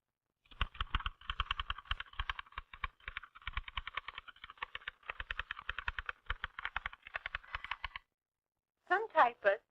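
Keys clack in rapid, irregular bursts on an old manual typewriter, close and crisp, then stop before a short spoken phrase at the end.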